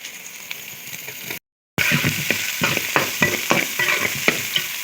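Chillies sizzle and fry in a pan, a steady crackling hiss broken by scraping stirs and brief clicks of the utensil, with a short dropout early on.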